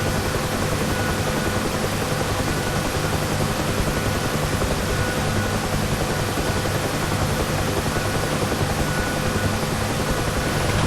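A UH-1 Huey helicopter setting down for a vertical landing in the DCS World flight simulator, its rotor and turbine roar loud, steady and unbroken throughout.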